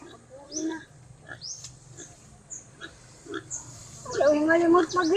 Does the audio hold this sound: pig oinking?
yes